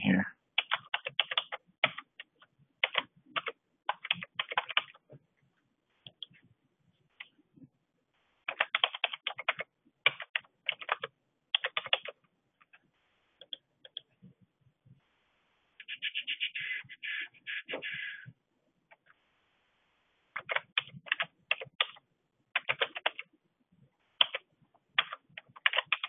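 Fingers type on a computer keyboard while entering city names into a Microsoft Access form, coming in quick clattering bursts separated by short pauses, close and fairly quiet, with no talking.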